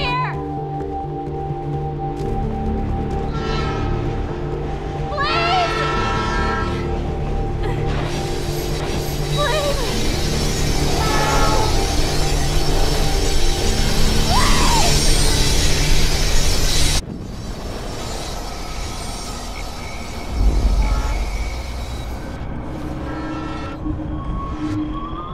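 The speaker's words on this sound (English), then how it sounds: "The train's coming!" A train thunders past in the video game Life Is Strange, a loud continuous rumble with bright hiss that builds and then cuts off sharply, followed by quieter rumbling and a low thump near the end.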